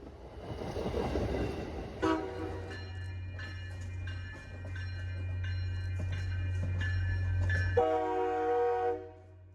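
A rail train that had been dropping rail rolls past the milepost 3 signals on the MBTA Worcester line, sounding a loud, sustained multi-tone horn in several long blasts over a low engine rumble, with a bell ringing.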